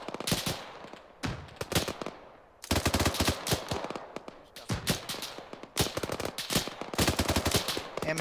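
Bursts of machine gun suppressive fire in the military shooter Arma 3, loud and close, with several long rattling strings of rapid shots separated by brief pauses.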